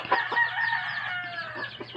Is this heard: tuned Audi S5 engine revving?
no